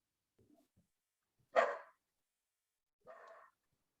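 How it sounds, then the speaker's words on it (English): Dogs barking indoors at a distance, two separate barks a second and a half apart with faint whimpers before them, otherwise quiet. "Sorry, I have the dogs barking."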